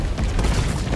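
A shotgun fired in Resident Evil 3, one loud, booming, close blast that fills the whole short moment, with no talking.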